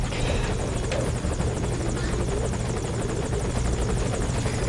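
A helicopter in a PS4 game drones continuously with a steady, loud rotor chop and engine whine, unbroken throughout with no voices.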